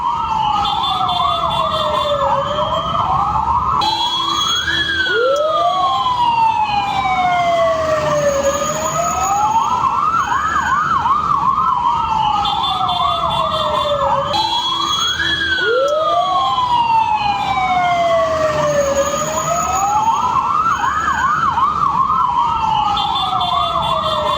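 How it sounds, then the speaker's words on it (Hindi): A loud, continuous ambulance siren wails, its pitch sweeping up and down in repeating cycles that dominate throughout. "एम्बुलेंस पहुंच गई है"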